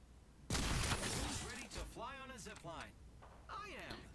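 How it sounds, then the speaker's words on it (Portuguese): Gunfire in the battle game Apex Legends, a sharp burst of rapid shots and crashing impacts that starts abruptly, heard alongside someone talking over the action. "Tá dando esses tiros."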